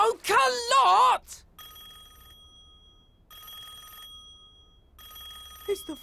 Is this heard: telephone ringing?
yes